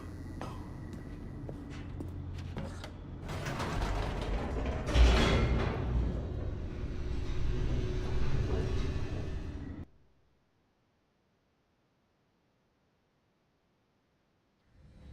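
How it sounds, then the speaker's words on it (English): A descending elevator in the game The Stanley Parable gives a dense, loud mechanical rumble with creaks and clanks for about ten seconds, then stops abruptly into near silence, and a faint sound returns at the very end. "The elevator raced downward, plummeting towards an unknown fate."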